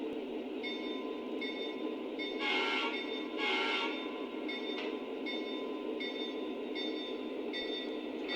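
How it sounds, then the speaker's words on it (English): A Lionel Legacy model train pulled by Norfolk Southern SD45 locomotives with Super-Bass sound rumbles steadily with rhythmic clicking over rail joints, two louder bursts of rattling noise passing midway, no voices. "it's time to pull out of the yard and get this train onto the main line"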